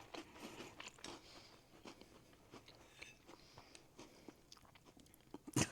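Someone bites into an Oreo cookie topped with Reese's peanut butter and chews it up close, giving repeated soft crunches and crackly chewing in a quiet room.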